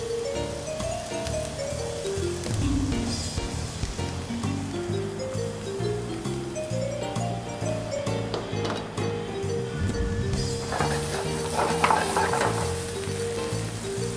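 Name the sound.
stirring spinach, onion, garlic, tomato and feta cheese in saute pan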